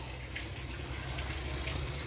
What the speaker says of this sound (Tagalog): Dito ko sinasala mula sa deep well yung tubig natin.